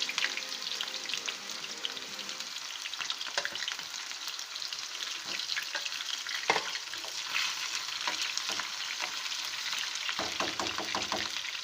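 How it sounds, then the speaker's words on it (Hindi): Two onions frying in oil in a frying pan for a chicken nihari tempering, giving a continuous close sizzle with scattered spatula scrapes and clicks. "ये देखें मैंने फ्राई पैन में जो है ऑयल डाल दिया है भगार के लिए। अब इसमें मैं डालूंगी प्याज।"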